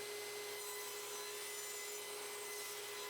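A saw rips strips from walnut plywood scraps with a faint, steady whine and a continuous rasping cut, heard alone at low level.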